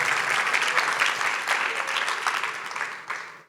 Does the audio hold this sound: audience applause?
yes